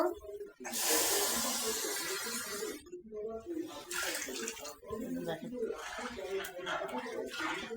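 Water pours into a pot of fried dal cooked with egg, a hissing, splashing rush that gradually fades, while a person talks over it.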